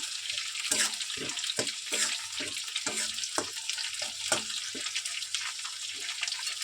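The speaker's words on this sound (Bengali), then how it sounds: "পাশে আমি আলুটা ভাজা বসিয়েছি, এটা আমি ঢেলে দেবো ভাজা হয়ে গেলে" Potato pieces frying in a pan beside a pot of spiced masala, giving a steady broadband sizzle with a run of short clattering knocks, close and fairly loud, with no voices.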